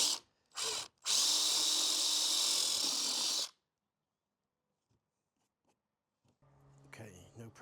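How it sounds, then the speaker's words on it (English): An electric drill whines loudly into an Audi A3 bumper, a short burst and then a sustained run of about two and a half seconds, followed by near silence and faint handling noise. "Just drilling into a bumper that you spent 3 weeks trying to find."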